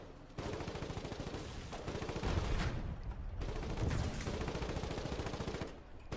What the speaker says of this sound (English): I can shoot him again, Jack.